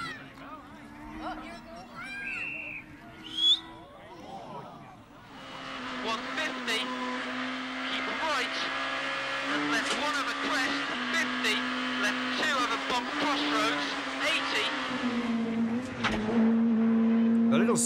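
Peugeot 106 1600cc rally car on a British Rally Championship stage, its engine revving loud and sustained with gear changes, after a quieter opening with voices.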